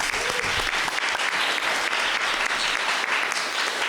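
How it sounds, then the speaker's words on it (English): An audience at an academic roundtable gives a round of applause: dense, steady clapping throughout, fairly loud and close. "I think we can all give Inger Flem Soto a round of applause."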